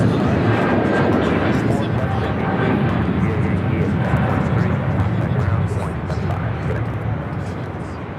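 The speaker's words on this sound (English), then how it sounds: "On the south side, we have Air China 777 taking off now." An Air China Boeing 777-300ER taking off at Los Angeles airport, a broad roaring jet rumble that fills the clip and slowly fades, with a person talking over it.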